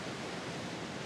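Powerful Atlantic ocean waves in windy Gran Canaria crash over a rocky edge and splash into natural pools, making a dense, steady roar of rushing water with no pauses.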